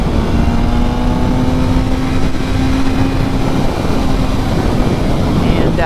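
BMW M1000R motorcycle fitted with a new exhaust, its engine droning loud and steady under heavy wind rush, the pitch holding then shifting as the throttle changes.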